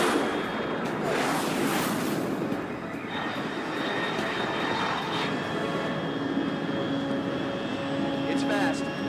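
A fast aircraft in Metal Gear Solid 3 Delta makes a loud, sustained roaring rush. Bursts of rumble run through it and keep a steady level the whole way.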